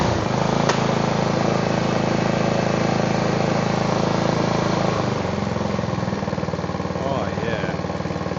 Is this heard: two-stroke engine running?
yes